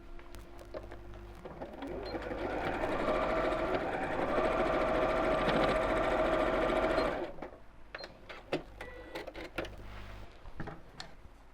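A home sewing machine stitches a straight line across a tote bag corner in one steady run of about five seconds, followed by softer clicks and handling sounds.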